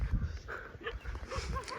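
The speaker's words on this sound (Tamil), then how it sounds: "ஸோ பாருங்க நாயெல்லாம் உடைக்கிது பாருங்கள்." Village dogs barking and whining at a distance, rapid overlapping yips and barks layered over outdoor background noise.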